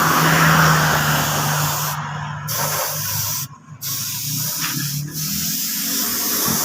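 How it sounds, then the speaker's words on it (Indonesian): Spray gun applying black paint to the body panels of a used Honda Supra motorcycle, a loud continuous hiss with brief pauses and restarts as the nozzle is released and pressed again. "Nah ini kita langsung semprot saja cat warna hitamnya."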